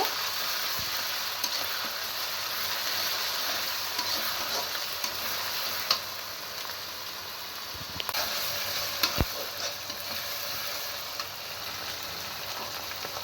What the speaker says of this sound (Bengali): আদা বাটা দিয়ে আমি মশলাটাকে এখন কষিয়ে নেব